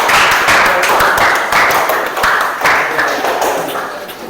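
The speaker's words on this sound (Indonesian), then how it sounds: "silakan tepuk tangan untuk kelompok 1." A school class applauds a student group after its presentation on environmental pollution, loud close-up clapping in rhythmic, pulsing waves that taper slightly toward the end.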